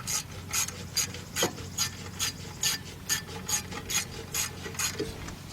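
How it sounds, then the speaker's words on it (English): A 1/4 inch drive ratchet with a T30 socket tightens a fastener on a Buick Enclave rear brake, giving a regular series of close clicking back-and-forth ratchet strokes, about a dozen in quick rhythm. "let's take our T30 socket, 1/4 inch drive with our 1/4 inch drive ratchet, and we're gonna go ahead and tighten this up"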